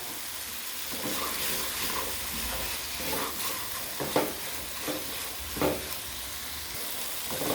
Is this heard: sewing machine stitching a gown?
no